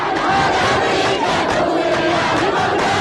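Crowd of demonstrators in Iraq shouting in the final hours before the Desert Storm deadline, a loud dense roar of many voices chanting and yelling together without pause.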